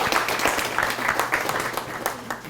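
An audience at an evening talk on traditional knowledge claps steadily after a speech, a dense, sustained round of applause heard from within the room.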